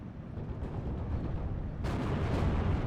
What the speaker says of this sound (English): The Marauder is using up the last of its HE rounds.